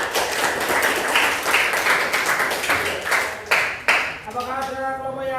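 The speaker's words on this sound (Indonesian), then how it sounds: "Tepuk tangan semuanya." A classroom of students clapping after a group presentation, dense and loud at first, then thinning out as a voice begins speaking near the end.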